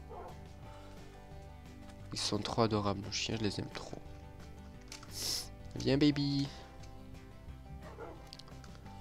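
A pair of Dalmatian dogs gives a few sharp, close barks and whimpers in short bursts. People speak softly between and over the dog sounds.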